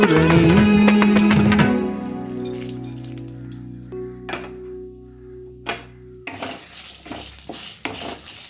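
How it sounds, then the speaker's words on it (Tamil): Vallarai greens dry roasted in a pan, with a loud stirring scrape at first, then quieter sizzling and crackles, and a few sharp clinks of a spoon against the pan, close up. "வறுத்து முடிச்சிட்டேன்."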